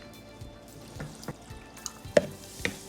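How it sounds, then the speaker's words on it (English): Water is poured into tomato sauce in a pot, heard as faint, scattered drips and small splashes in a quiet kitchen. "we're going to add 16 ounces of water in it"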